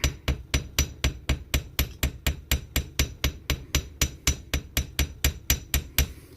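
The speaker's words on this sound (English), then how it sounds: "I got my anvil sitting on some books on my desk, so it's not quite so loud." A hammer strikes coiled wire on a small anvil set on books atop a desk, flattening it with about two dozen sharp metallic blows at a steady, quick rhythm, close and alone.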